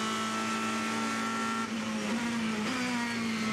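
Race cars at the 24 Hours of Le Mans in 2014, a loud, continuous engine roar with a steady high whine that shifts pitch slightly as the cars run past, near and sustained throughout.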